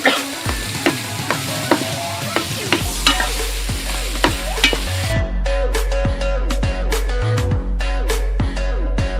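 A pork rib curry with flowering mustard greens is stirred in a frying pan, giving a loud sizzle with repeated sharp scrapes and clinks of the utensil at a steady rhythm and no talk.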